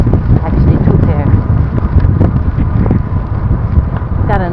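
Strong gusting wind buffets the microphone in a steady, rough roar, with a voice faintly present underneath.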